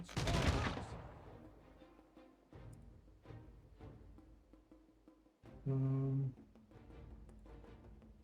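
Gunfire from military units in the strategy game Humankind: a loud burst of shots at the start, followed by scattered fainter reports and a brief tonal horn-like blast.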